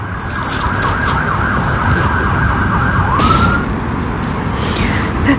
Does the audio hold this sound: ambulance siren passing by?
yes